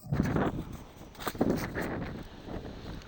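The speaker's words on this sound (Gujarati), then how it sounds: "અને આ જો તમને પવન સંભળાવું" Gentle, cool wind gusts brush across the microphone, soft and uneven, with light rustling and no voices.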